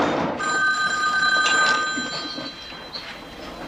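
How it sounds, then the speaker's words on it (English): A telephone bell rings steadily indoors, a moderately loud sustained trill with a faint background hum, no talk over it. "Aren't you going to answer the phone?"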